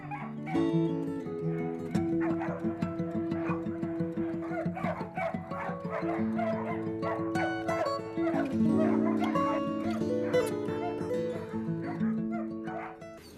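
Blue Heeler dogs bark, yip and whimper in a busy, overlapping chorus close by, with no pause across the stretch.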